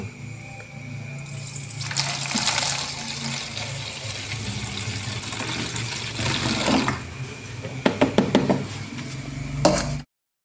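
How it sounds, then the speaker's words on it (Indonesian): About 250 ml of PSB liquid is poured into a homemade organic amino acid fertilizer mix made with snails. A steady splashing pour lasts several seconds, followed by a few hollow knocks and clatters of containers. "250 ml PSB nya kita masukkan"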